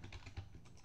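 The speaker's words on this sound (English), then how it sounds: "I press W and S, it will look like this" Computer keyboard keys W and S pressed repeatedly, a quick run of soft, close typing clicks with a steady rhythm and no voice.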